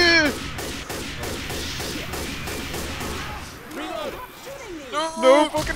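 Rapid bursts of gunfire from the video game Left 4 Dead 2, a dense repeating volley in steady rhythm for several seconds, fairly loud, with players talking and shouting over it.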